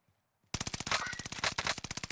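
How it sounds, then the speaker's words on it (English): Enemies open fire in a shooter game with a sudden burst of rapid automatic gunfire after a half-second of near silence. The shots come as a fast, steady rattle of sharp, close reports that runs to the end. "They're shooting like underneath here"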